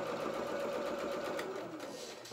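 A sewing machine runs steadily and close by, stitching gathered skirt fabric onto a dress bodice in one continuous hum that softens slightly near the end.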